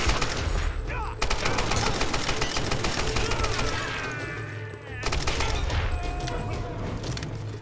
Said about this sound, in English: You can use your submachine gun before it goes back into regular speed.